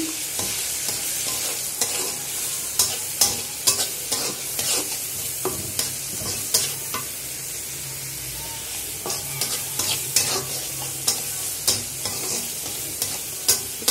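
Small cleaned shrimp frying in a pan with browned onion and garlic, a steady hiss of sizzling oil broken by repeated scraping stirs throughout, close and fairly loud, with no talking.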